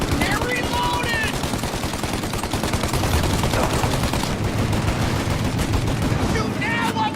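Sustained machine gun fire in Mafia Definitive Edition, dense rapid bursts running throughout, loud and close, with shouted voices briefly over the gunfire at start and end.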